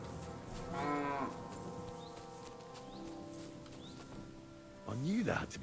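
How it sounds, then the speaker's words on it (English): Two fattened cows in a video game let out long lowing moos, one near the start and a second, rising call near the end, with quieter game ambience in between. "Two nicely fattened cows."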